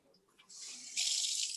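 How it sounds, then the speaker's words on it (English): Cold water running from a kitchen tap: a close, steady hiss that starts after a faint rustle and grows louder as the flow opens up, with no talking. "Cold water."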